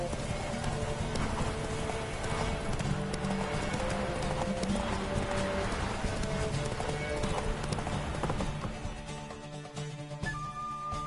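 Horse hooves clip-clop at a steady galloping rhythm during a Witcher 3 race with the horse Roach, carried over constant game music and ambient layers, loud and close throughout before thinning near the end.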